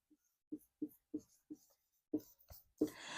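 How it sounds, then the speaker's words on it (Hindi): Chalk or marker writing on a board, heard as a string of short, separate taps and strokes at an uneven pace, fairly close, ending in a longer rubbing scrape, with no one talking. "एक स्पेलिंग और लिखता हूं मैं"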